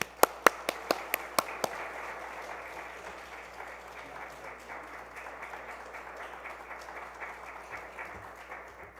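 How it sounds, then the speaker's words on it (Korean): A church congregation at a revival service breaks into warm applause to welcome the pastor, starting with a few sharp, loud claps up close before settling into a steady, dense patter of hands filling the sanctuary. "우리 뜨거운 박수로 목사님 환영하겠습니다."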